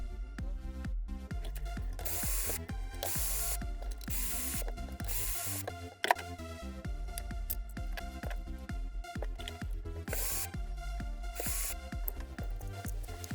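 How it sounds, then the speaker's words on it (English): The plastic case of an ARM AS15-2001 cordless screwdriver with a dying battery pack is taken apart, giving constant ratcheting clicks and mechanical rattling that run close and loud throughout, with a sharp knock midway and no talking. "Let's disassemble the case."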